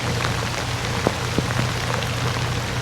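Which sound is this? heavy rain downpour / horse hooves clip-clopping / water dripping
heavy rain downpour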